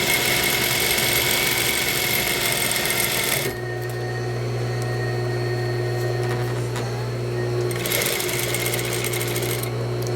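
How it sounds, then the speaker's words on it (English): A sewing machine stitches dining chair slipcover seams close up, running loud and steady in a fast whirring hum, pausing briefly and then resuming at a lower, steadier drone. "Let's go ahead and sew these up"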